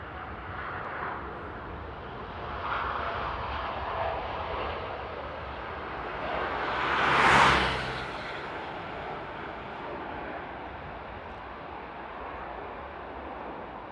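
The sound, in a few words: Air France Dreamliner taking off at Paris CDG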